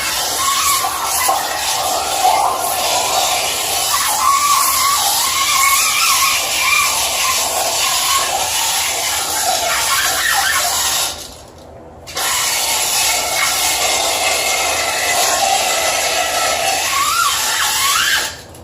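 A HomeRight SteamMachine steam cleaner hisses and sputters into toilet bowl water, a continuous harsh spray with gurgling splashes that breaks off briefly midway and then resumes.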